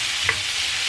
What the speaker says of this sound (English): I'm going to go ahead and add the garlic and saute that in there for just a second as well